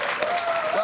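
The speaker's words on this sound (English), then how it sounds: "Please give them all a round of applause." A studio audience applauds on a TV show after an accordion and violin performance, a brief burst of dense clapping under a voice speaking.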